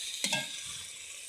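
Water hits a pan of fried arbi (taro) with a sudden sharp hiss that flares and then fades to a quieter, steady simmering sizzle.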